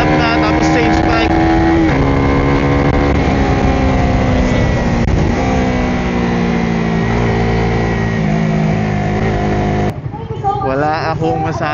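A Suzuki Raider R150 Blade Edition 2026 underbone motorcycle laps the Carmona race track, its engine loud and close with a sustained high rev and shifting pitch. A brief gear change cuts the tone near the end before it climbs again.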